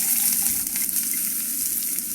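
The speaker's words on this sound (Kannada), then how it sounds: "ಉಳ್ಳಾಗಡ್ಡೆ ಹಾಕಿ ಫ್ರೈ ಮಾಡಬೇಕು. ಈಗ ಎಣ್ಣೆಯಲ್ಲಿ ಚೆನ್ನಾಗಿ ಫ್ರೈ ಮಾಡಬೇಕು." Chopped onions fry in hot oil in a pan for batata vada, giving a steady, close, continuous sizzle with no voices.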